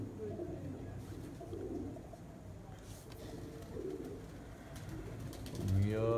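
Low, throaty cooing from a pair of pigeons sitting high in a loft comes in several soft rolling phrases, with a faint mechanical click near the end.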